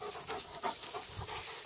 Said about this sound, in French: Le chien de garde le plus terrible du monde